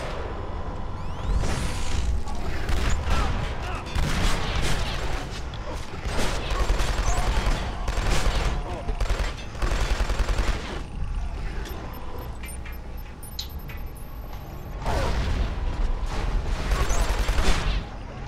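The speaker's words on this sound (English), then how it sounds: "this is the highest powered shotgun in any any shooter" Heavy shotgun blasts in the shooter Killzone 2 on the Southern Hills map, several loud booming shots spaced apart amid battle noise and mechanical clatter, with someone talking over them.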